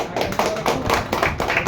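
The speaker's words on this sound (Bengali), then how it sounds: "জোরে হাততালি" People clap at a mobile-repair course ending ceremony as a student is honored, producing a few close, rhythmic, uneven hand claps over a short stretch.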